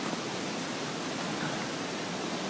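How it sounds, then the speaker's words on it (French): Powerful flooded waterfall, the Cascade du Laty on the swollen Estéron river in fog: a dense, unbroken roar of rushing water fills the whole clip, close and steady, with no voices. "je vais finir par là pour vous montrer la puissance de la cascade"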